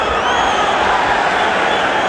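Boxing arena crowd at a WBC featherweight title bout between Kevin Kelley and Alejandro Gonzalez, a dense continuous roar of many voices rising as one fighter is backed into a corner, steady and loud throughout.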